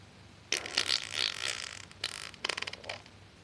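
A person imitates fart sounds with the mouth, pushing air through the lips in a series of loud, buzzing, sputtering bursts of varying length, separated by short pauses.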